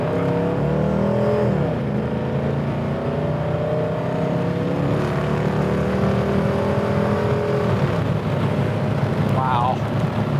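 A 1948 Chevy Fleetmaster Coupe resto-mod accelerates hard, its engine note climbing steadily in pitch as it pulls through the gear, loud and close inside the car, with a brief higher rise near the end.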